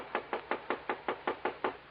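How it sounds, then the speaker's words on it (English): Knocking on a door in a radio drama, a run of nine evenly spaced, firm raps at a steady brisk rhythm, moderately loud and close, with no talking. "20 minutes passed before we heard the knock on the door."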